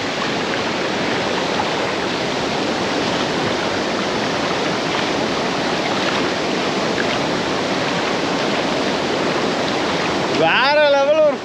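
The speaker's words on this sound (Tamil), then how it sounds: "River crossing." Bicycle crossing a river in deep forest, with steady loud rushing of flowing water throughout and a brief squeaky wavering sound near the end.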